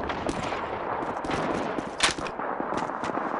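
Sniper and rifle gunfire in Call of Duty 2 on PC, a dense stretch of sharp cracks and shots over steady battle noise, with one louder report standing out near the middle.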